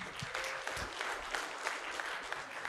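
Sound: applause

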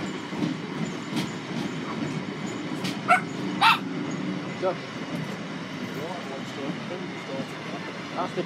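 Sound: Bichon Frise dog barking

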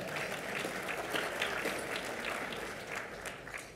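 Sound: luncheon audience round of applause

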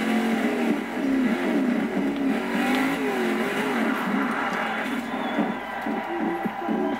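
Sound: off-road car engine driving in video game Forza Horizon 2

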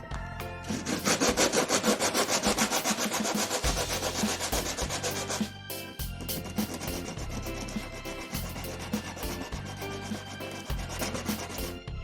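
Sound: sanding wood with sandpaper

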